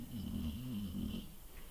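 A dog snores softly indoors, slow wheezing breaths rising and falling in a steady rhythm, quiet and close, with no other voices.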